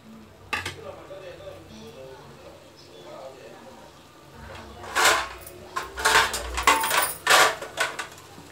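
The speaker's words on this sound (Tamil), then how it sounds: "இது ஒரு மூடி போட்டு மூடிடலாம்." A lid goes onto a pot of vegetable salna cooking on the stove: a few quiet scrapes, then a cluster of sharp metallic clanks and rattles near the end, with some talk in the background.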